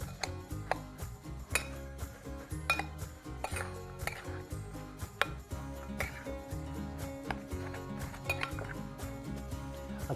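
Brown and white sugar are stirred together in a bowl, with a spoon clinking and scraping against its sides in a steady, quiet rhythm and no talking.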